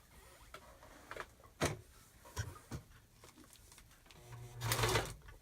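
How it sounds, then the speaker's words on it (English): A sewing machine whirs in short bursts, with a longer, louder run of stitching near the end; the bursts are separated by quiet pauses. "we're going to go to the sewing machine"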